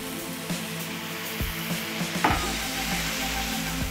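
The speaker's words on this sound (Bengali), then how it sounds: "জল দিয়ে আর একটু কষতে সাহায্য করব।" Spice masala sizzling in a pan with a little water added while it is stir-fried for a bhetki fish dish, giving a steady hiss with several dull scraping stirs and a louder splash-like burst midway.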